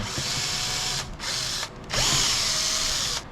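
A power drill runs in three short, close bursts while removing a bolt from the air filter housing of a Briggs & Stratton 140cc carburetor on a Craftsman M110 mower, with brief pauses between bursts.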